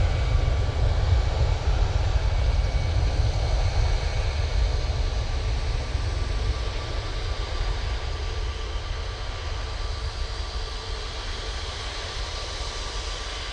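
An Airbus A319 at Manchester Airport gives off a steady, moderate engine drone with a faint whine riding on top, holding constant and unchanging throughout.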